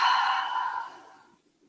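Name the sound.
exhaling through an open mouth during yoga breathing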